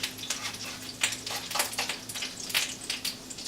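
Salmon patties fry in a pan, sizzling steadily with sharp, irregular pops of hot oil bursting up close, no talking over the crackle.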